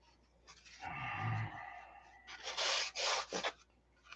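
Sandpaper is rubbed by hand across a lost-foam wing, making two raspy strokes: a longer, lower scrape followed by a brighter, harsher pass that breaks into short bursts. The sound is close and fairly quiet, with no talking.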